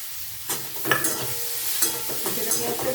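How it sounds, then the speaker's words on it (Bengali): Chopped onion frying in hot oil until red for Bengali shol fish kalia, a busy sizzle broken by several scraping stirs of a spoon in the pan, close and fairly loud. "এইবারে আমি এই যে কুচনো পেঁয়াজটা দিয়ে দেবো। এটা একেবারে লাল করে ভাজবো।"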